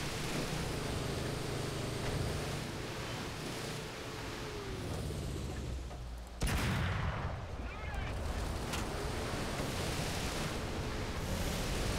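Tank cannon and gunfire from War Thunder tank combat, a KV-1 among the enemy tanks, rumble steadily as dense battle noise, with a sharp loud blast partway through and voices talking over it.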